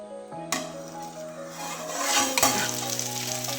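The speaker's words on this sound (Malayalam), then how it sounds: "ഇനി അടിയിലത്തെ വശം ഫ്രൈ പാനിലേക്ക് ഇടണം" Banana chamanthi sizzles as it is laid into a hot fry pan, a bright crackling hiss that swells after a soft start and continues steadily, with a sustained tonal hum running underneath.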